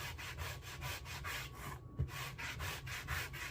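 A small sanding tool buffs a felt hat, giving rhythmic back-and-forth rasping strokes, about three per second, close and steady with one brief pause midway.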